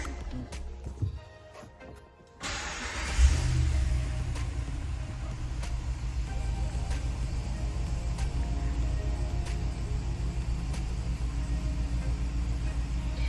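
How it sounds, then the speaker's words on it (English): A 2020 RAM 2500 Big Horn pickup starts up with a sudden low surge after a few quiet seconds, then settles into a steady, deep idle rumble heard close from inside the cab. "now that the engine is running"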